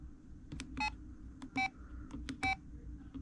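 An LG VM101 phone plays a series of short tonal ringtone chirps, several bright multi-tone beeps spaced irregularly with faint clicks between them, close and quiet.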